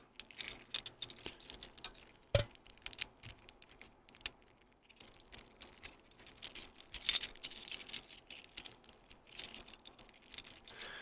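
Metal keys jingle and clatter close to a sensitive studio condenser microphone, a sE Electronics 4400a, in an irregular, continuous stream of bright rattles with a few sharper clinks, no voice present.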